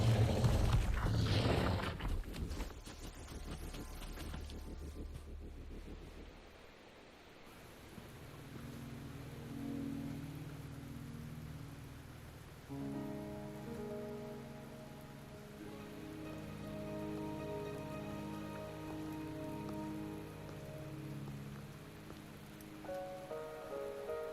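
Rain falls in the video game Wuthering Waves, a soft steady patter that stays quiet and continuous while game music plays over it.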